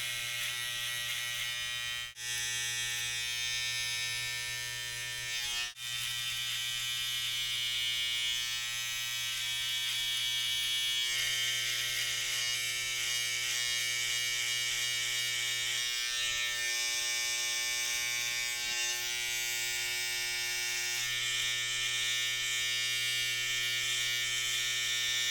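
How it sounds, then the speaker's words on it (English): Electric hair trimmers buzzing close up while shaping a burst fade during a self-haircut, a steady, unbroken motor drone that holds for the whole stretch with no talk. "I'm going to use my trimmers and put in a slight rainbow shape right around here"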